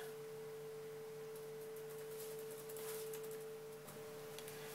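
A steady, pure sine test tone, run through guitar effect pedals, holds at one pitch throughout, faint and unbroken, with a low hum and light background noise beneath it.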